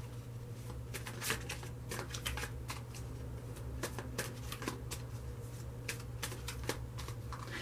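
A deck of tarot cards is shuffled in a steady run of rapid riffling snaps, quiet and close over a low background hum.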